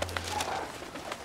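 A pigeon gives a short, soft cooing call, heard close and alone over a quiet background.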